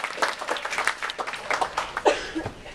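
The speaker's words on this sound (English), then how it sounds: "we can clap for that" An audience at a fantasy book signing claps briefly, a loose patter of hands that rises and fades over a couple of seconds, with a voice cutting in near the end.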